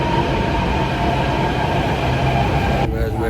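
Metro train riding underground: a loud, steady rumble of wheels and carriage with a constant roar throughout and a sudden drop near the end.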